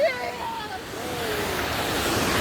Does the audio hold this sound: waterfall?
yes